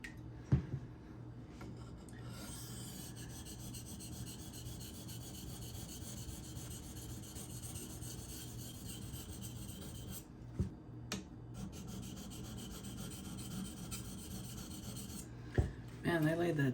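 A knife blade, an ESEE Izula II with a burr built up near the tip, is worked against a sharpening stone, giving a steady close rasping scrape that runs nearly the whole time with a few brief knocks.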